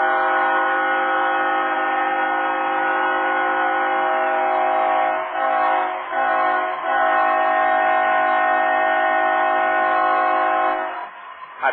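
A loud, sustained train horn sounds at a minor-league baseball stadium during a Texas League championship game, holding one steady blast for over ten seconds with a couple of brief dips before cutting off.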